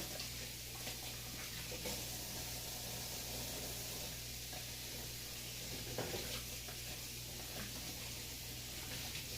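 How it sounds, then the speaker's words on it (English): Hands being washed under a running tap at a kitchen sink while making Bahamian homemade bread, with raw egg on them; a steady broadband hiss of flowing water continues throughout with a low hum beneath and a brief splash near the end. "Wash my hands."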